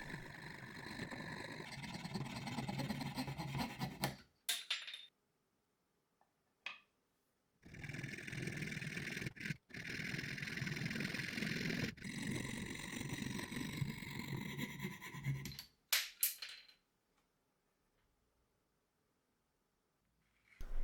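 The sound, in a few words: fret saw cutting out a wooden crankbait's top profile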